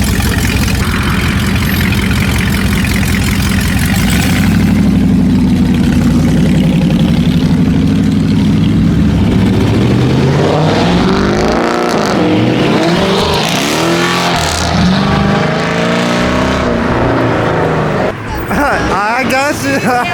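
A car's engine roars and revs loudly and steadily at a car meet, rising and falling in pitch, while people shout and talk over it nearby.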